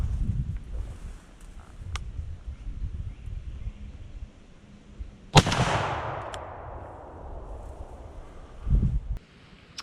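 A Weatherby Element shotgun fires a single loud, sharp blast of Federal buckshot outdoors, followed by a long echoing tail that fades over several seconds. Wind rumbles softly before and after.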